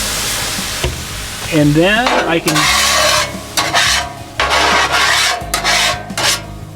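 Water sprayed onto a hot cast iron griddle hisses and sizzles loudly in close, repeated bursts and scraping rasps, with someone briefly speaking over it.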